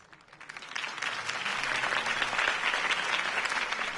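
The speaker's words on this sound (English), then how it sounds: "could have heard that applause" Steady applause from a crowd in a Batman video game, swelling in over the first second and then holding at a full, even level throughout.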